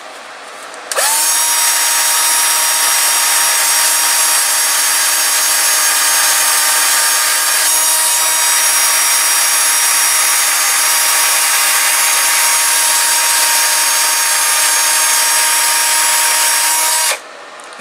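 A drill-driven makeshift spindle sander, an inexpensive substitute, whirs steadily against wood for about sixteen seconds, a close, loud, even high-pitched whine with a gritty rubbing texture that starts and stops abruptly.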